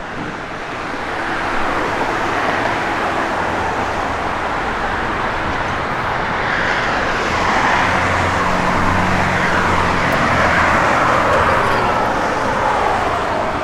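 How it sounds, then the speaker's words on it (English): A 1966 Chevrolet C10 pickup with a Magnaflow dual exhaust and chrome tips idles nearby in a steady, continuous rumble that swells slightly midway and holds on alone, with no talk. "great sounding Magnaflow dual exhaust system"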